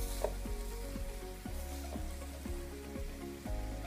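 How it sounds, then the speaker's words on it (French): Aubergine slices sizzle in olive oil on a grill pan, a steady close frying hiss with a faint repeating rhythmic hum underneath, continuous and fairly quiet with no voices. "J'ai coupé mes aubergines en rondelles et je vais les faire griller dans un grille."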